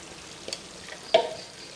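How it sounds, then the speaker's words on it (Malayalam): Paneer fried rice with spices being stirred in a pan, with soft scraping strokes and a faint sizzle, including one sharper clink of a utensil against the pan. "ഇതെല്ലാം കൂടെ ചേർത്ത് നല്ലപോലെ നമുക്ക് വീണ്ടും ഒന്ന് മിക്സ് ചെയ്തെടുക്കാം."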